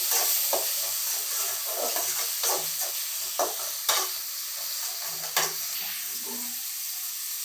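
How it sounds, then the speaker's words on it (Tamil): Onions and tomatoes sauté together in a pan, giving a continuous sizzling hiss broken by repeated scraping and stirring strokes from a spatula, close and moderately loud, with no talking. "தக்காளி கூட நல்லா வதங்கட்டும்."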